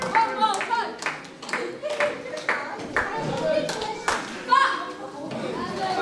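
A wrestling crowd clapping along in a rhythmic, fairly close series of claps, mixed with chatter and children's voices.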